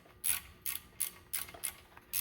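Ratchet clicks on a Honda GCV190 valve cover bolt as it is tightened a quarter turn, six short bursts of clicking spaced roughly evenly, close and fairly quiet.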